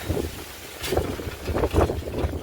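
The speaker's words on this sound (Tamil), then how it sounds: "காற்று ரொம்ப ஃபோர்ஸாக அடிக்குது." Strong, gusty wind buffets the microphone on a 2 km mountain road through deep forest during a cycling climb, coming in low rumbling bursts that swell and drop.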